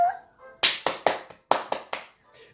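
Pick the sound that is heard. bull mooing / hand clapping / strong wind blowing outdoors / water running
hand clapping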